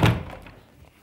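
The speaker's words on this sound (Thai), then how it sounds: "เปิดประตูนิดนึง" Single short thunk from a door of an apartment in Ukraine or Poland, a close dull knock that fades quickly.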